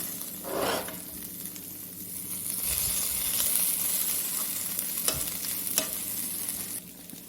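French fries fry in a pan of oil with a soft, continuous hiss and occasional stirring scrapes and clicks, quiet and close.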